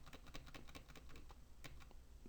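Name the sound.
computer keyboard arrow keys pressed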